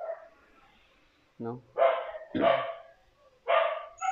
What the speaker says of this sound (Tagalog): pasensya na sa aso, baka marinig nyo